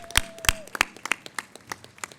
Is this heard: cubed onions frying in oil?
no